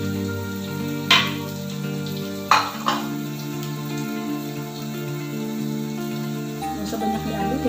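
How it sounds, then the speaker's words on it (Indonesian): Oil sizzles steadily as tempeh fries in a pan, with a couple of sharp scraping stirs near the start and a louder crackle toward the end. "Goreng hingga kering ya bun."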